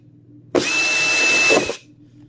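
A Dewalt cordless drill fitted with a Phillips bit spins up sharply, holds a loud steady high whine for about a second, then winds down, close and alone with no talk.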